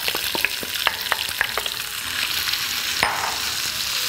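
Onion fries in lard in a pan, giving a steady close sizzle broken by a series of sharp stirring clicks and taps.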